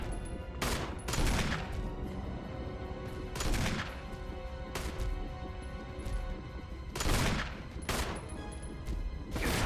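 Magnum revolver shots in Resident Evil, four or five loud, heavy blasts spaced a second or two apart, each with a booming tail, over a constant game background.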